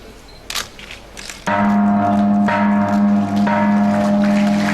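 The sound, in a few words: ceremonial gong being struck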